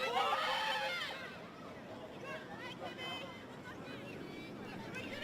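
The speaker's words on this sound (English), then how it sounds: "Fantastic crowd here at Heath Park to witness this semi-final" Crowd at a women's football semi-final at Heath Park, a steady murmur of spectators with scattered shouts and whistles, louder at the start, while a commentator talks over it.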